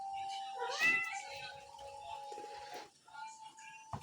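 A house cat perched on top of a refrigerator meows repeatedly in drawn-out, plaintive calls, close and clear, while someone talks to it.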